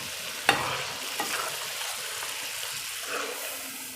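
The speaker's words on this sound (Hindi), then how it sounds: "ये इसके अंदर शामिल करेंगे। ये देखें, अभी यहाँ पे इसको मिक्स करके भून लेंगे।" Beef liver stirred and fried on a hot tawa gives a steady close sizzle with a sharp scrape of the spoon near the start and softer stirring knocks throughout.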